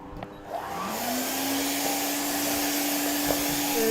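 An Aura Cleanmax vacuum cleaner runs over bedding to pull out dust and mites. Its motor spins up during the first second into a steady, loud whine and whoosh that holds without pause, with no voices.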